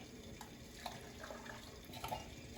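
Milk being poured into an onion and cream of mushroom soup mixture, a soft, steady liquid trickle with faint splashy blips, heard close and quiet with no talking.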